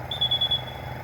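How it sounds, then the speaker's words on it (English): A flame photometer measuring potassium in water gives a thin, high-pitched electronic beep, a short pulsing tone lasting about half a second, over the steady low hum of the instrument in a lab. "So again now you will hear a beep sound."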